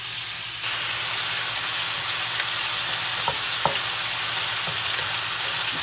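Boneless pork loin pieces fry in a hot pan for a Cajun stir fry, with a dense, steady sizzle and hiss broken by a few soft scrapes and taps as the pieces are turned.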